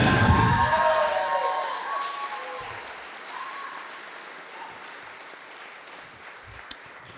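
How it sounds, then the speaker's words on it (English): Wedding reception crowd applauding and cheering after a couple's dance, loud at first with some voices and tonal music fading, then thinning to scattered claps. "a big round of applause"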